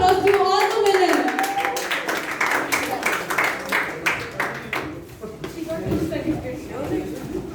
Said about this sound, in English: Let's give a round of applause to all the winners.